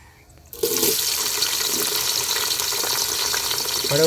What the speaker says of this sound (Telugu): ఇవన్నీ అయితే ఏగేవే నూనెలోనా ఇప్పుడు ఉల్లిగడ్డలు వేసుకుందామండి